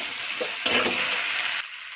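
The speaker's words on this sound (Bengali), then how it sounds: "তেল গরম হয়ে গেছে, ওর মধ্যে দিয়ে দিলাম একটা গোটা শুকনো লঙ্কা, পাঁচ ফোড়ন দিয়ে দিচ্ছি, কচু।" A whole dried chili, five-spice seeds and taro hit hot oil in a pan, bursting into a loud, close sizzle that holds steady and then drops away abruptly.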